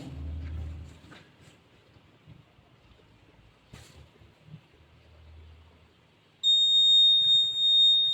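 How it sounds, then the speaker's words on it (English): A smoke detector alarm tested with a homemade DIY circuit bursts into a loud, steady high-pitched electronic tone near the end, after several seconds of faint rustling and handling noises. "in this house to check the smoke detector"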